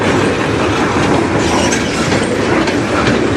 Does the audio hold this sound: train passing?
yes